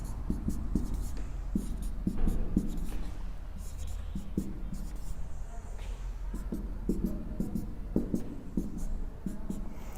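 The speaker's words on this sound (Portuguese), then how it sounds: "deixa eu escrever aqui várias vezes" Chalk or marker scratching on a board during a sixth-grade maths lesson, with steady quick strokes and taps repeating throughout over a faint room hum, close and moderately quiet.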